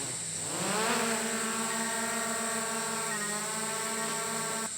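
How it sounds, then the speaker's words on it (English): A DJI Mavic Air 2 drone lifts off from a vehicle's bonnet outdoors, its propellers spinning up into a loud, high buzzing whine that settles into a steady hover drone and shifts pitch partway through. "So I'm going to launch this drone"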